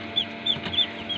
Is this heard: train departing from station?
no